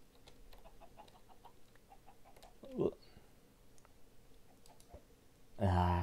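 A computer mouse clicks softly and repeatedly during Minecraft play, with light, scattered taps under quiet background noise and a louder burst of sound at the end.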